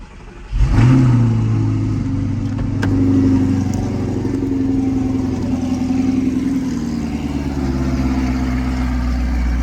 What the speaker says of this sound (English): we don't want music to spoil the sound of this V8 firing up